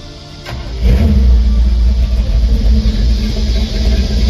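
A car engine idles after a rocker arm change and valve adjustment, firing up with a low, steady rumble that rises and holds loud and close.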